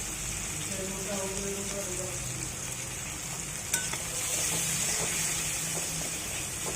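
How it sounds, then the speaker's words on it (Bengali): Onions frying with green chilli, salt and cumin powder make a loud, continuous hiss and crackle close by, with a single sharp knock partway through and the sizzle swelling slightly toward the end. "এগুলো একটু লাল লাল করে ভাজবো।"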